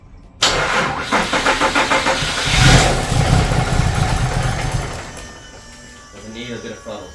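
Cold start of a Holden Monaro CV6 engine: a brief cranking whir catches into a loud, rough idle that swells with a blip of revs and then settles, with a voice talking over it near the end.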